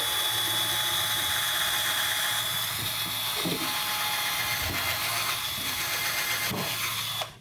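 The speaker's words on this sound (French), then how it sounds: "on vient percer avec quelque chose qui a une largeur similaire à sa corde" A drill bores a hole sized for a rope through a suspended table, a steady, loud, continuous whirring grind that holds without pause throughout.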